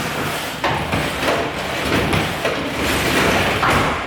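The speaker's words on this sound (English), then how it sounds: "how to fix a glass sliding door when it no longer opens and closes smoothly" A glass sliding door rolls roughly along its worn track, grinding and rumbling loudly with repeated bumps and jolts as it is pushed back and forth, close by and with no talk.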